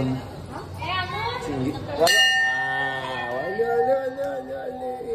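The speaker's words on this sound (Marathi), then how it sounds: "घंटी वाजवणार आहे" A bright metallic temple bell strikes once and rings on with a long sustained tone, while people talk and chatter nearby throughout.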